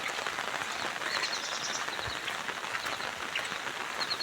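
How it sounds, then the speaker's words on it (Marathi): Steady rain falls through the whole stretch as a dense, even hiss that stays at moderate loudness, with no voices over it. "अरे पाऊस जाम रात्रीपासून जो काय झाला"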